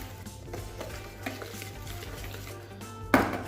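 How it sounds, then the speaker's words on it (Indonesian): Flour coating mixture for fried chicken being stirred in a bowl, with soft scraping and clinking of utensil against the dish, ending in a sharper knock near the end. "Aduk lagi biar rata."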